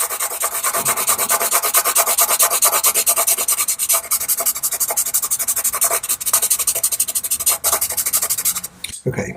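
A pastel pencil is rubbed back and forth on paper while a mountain lion portrait's background is worked in, producing loud, close, continuous rasping strokes in a quick steady rhythm that stop abruptly near the end.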